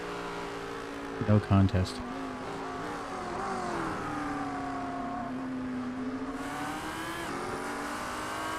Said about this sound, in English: I used to think this car's sound was annoying, but it's growing on me